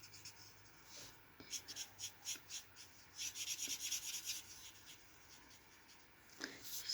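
A light yellow coloured pencil is rubbed back and forth over a handmade card, a soft, faint scratchy stroking in short repeated bursts, quicker and denser toward the middle, close up and without talking.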